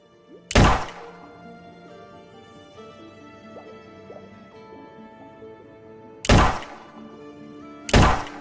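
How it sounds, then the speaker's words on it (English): An in-game explosion from Minecraft, three loud, sudden broadband bursts: one near the start and two close together near the end, with quieter game sounds in between. "Why are you exploding, huh?"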